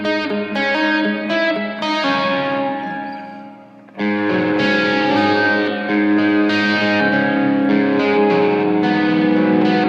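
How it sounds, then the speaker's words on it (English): Electric guitar run through a flanger effect pedal, sustained distorted chords with a sweeping, swirling comb-filter shimmer, loud and close, a brief fade near the middle before strumming resumes, no talking. "And then you have flanger."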